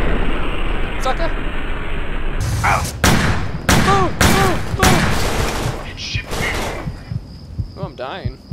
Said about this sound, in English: I'm just gonna shoot you obnoxiously right in that face